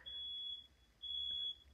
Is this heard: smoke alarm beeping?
yes